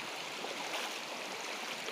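River water flowing near a road crossing in Merida, a steady broadband rush with no breaks, fairly loud and close, no voices.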